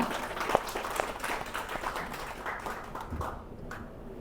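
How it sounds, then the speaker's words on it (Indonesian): An audience at a women's religious study gathering applauds the event organisers, a scattered moderate clapping that carries on for several seconds and thins toward the end. "saya mohon tepuk tangan untuk para pengurus kita"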